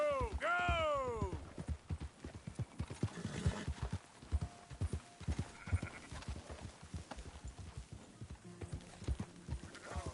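Hooves clip-clop rapidly in a galloping rhythm in the Red Dead Redemption 2 video game, with a horse whinnying near the start and voices talking over the hoofbeats throughout.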